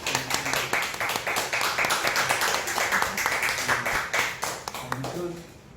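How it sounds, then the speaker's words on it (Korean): Congregation clapping inside a church during a worship service, steady overlapping handclaps for several seconds with voices and some singing-like tones mixed in, tapering off at the end. "우리 박수 한번 하겠습니다"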